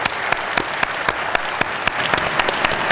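A keynote speaker receives steady applause from a conference audience, with a dense continuous patter of many hands and a few sharper individual claps standing out. No one speaks.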